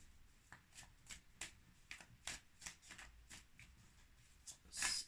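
Oracle cards are shuffled by hand, giving a series of quiet, crisp riffling bursts at an uneven rhythm, close by and alone.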